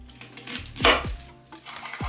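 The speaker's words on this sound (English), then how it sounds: "now I'm gonna cut up my ingredients" Onions are cut up in a kitchen while preparing a shrimp boil. Scattered knife and utensil knocks clatter close by in an irregular rhythm, with no talking.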